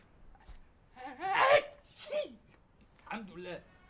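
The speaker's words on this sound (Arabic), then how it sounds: "عطست يا معلمة" A single sharp sneeze bursts out in a scene from an Egyptian TV drama series, with voices speaking around it.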